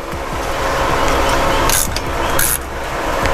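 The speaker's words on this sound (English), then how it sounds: "And then you'll take your oil filter wrench here" An oil filter wrench works on the oil filter of a Toyota Tundra 5.7, giving close, loud metallic clicking and ratcheting with scraping contact and a couple of sharp high bursts.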